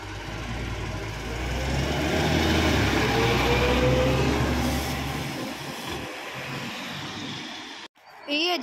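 A passing train hauled by an ET41 or EP07 electric locomotive at Cieplewo, on line 622 in Poland, builds to a loud rolling rumble and then fades away, ending abruptly.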